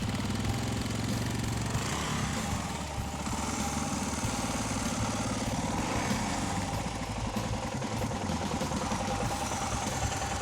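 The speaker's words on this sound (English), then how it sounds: "Needless to say, the mighty DR fired right up." A Suzuki DR650 single-cylinder motorcycle engine running steadily outdoors, a loud, continuous throbbing idle close by with no talk over it.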